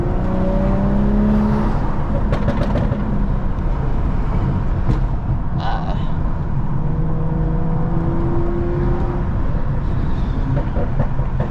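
A 500hp BMW 435i runs in traffic, its engine droning loud and steady for several seconds with a constant roar of road and wind noise, and a few faint higher whines and clicks over the top.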